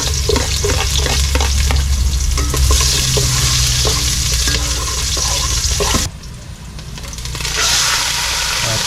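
Ginger, garlic and onion sizzle loudly in hot oil in a rural hut kitchen, with brisk rhythmic stirring scrapes throughout; the frying hiss dips sharply near the end and then swells back.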